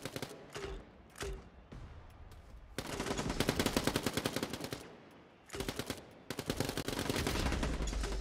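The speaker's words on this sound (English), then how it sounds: "Darth gets taken out by an SMG from Dekoops." Rapid SMG gunfire in the arena shooter Quake Champions, several sustained bursts of fast, evenly spaced shots separated by brief pauses, loud and close.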